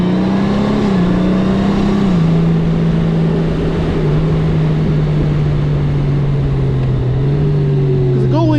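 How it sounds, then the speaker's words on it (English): Honda Goldwing motorcycle engine while riding along PA 125, a loud steady drone that shifts pitch slightly with gear and throttle changes, continuous with road and wind noise. "let you motorcycle ASMR lovers listen to the sound of the bike for a bit"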